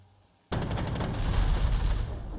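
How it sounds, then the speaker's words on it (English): Artillery fire in the WWII strategy game Panzer Corps 2 on a Wehrmacht campaign mission at Rostov. A sudden loud blast opens a dense, sustained roar of rumbling explosions that holds for about two seconds. "Oh, artillery, yeah?"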